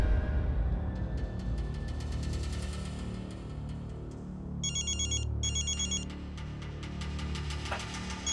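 A telephone rings with repeated electronic trilling bursts over a low background rumble of music, loud and close, with no talk over it.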